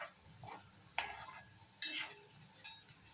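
Onion frying in a pan for sprouted moth bean usal, with faint sizzling under a few sharp spoon scrapes and clinks against the pan.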